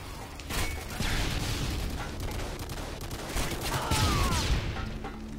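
A sentry gun fires in Modern Warfare 2 amid a dense, continuous clatter of battlefield gunfire and distant booms, loud and steady throughout with no clear pauses.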